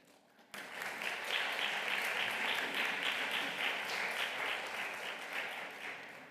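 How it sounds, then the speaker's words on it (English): At a formal education prize ceremony, applause bursts in abruptly after a quiet moment and continues as steady, fairly close clapping from a seated audience, tapering slightly at the end. "Double applause."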